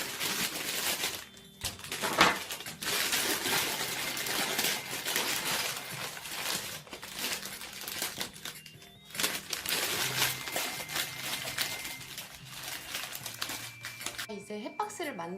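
Plastic sheet crinkles and rustles while it is lined into a basket for floral foam, with bursts of crackling that come and go over about fifteen seconds and brief pauses between handlings.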